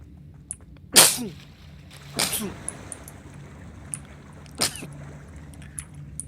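Three sharp sneezes burst out at intervals, loud and close, over a quiet background hum.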